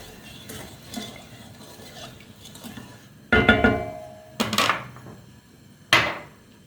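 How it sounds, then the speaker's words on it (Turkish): A spoon stirring sugar in a pot on the stove to melt it, soft scraping at first, then a few louder clanks and scrapes of metal against the pot, close by. "Şöyle karıştıralım. Güzelce erisin şekerimiz."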